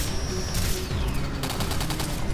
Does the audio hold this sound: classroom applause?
no